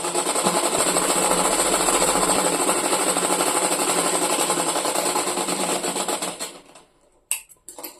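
A sewing machine stitches a long seam along a skirt near a freshly fitted zip, running in a steady, dense rapid chatter for about six seconds, then slowing and stopping, with a couple of brief clicks afterward and no talking.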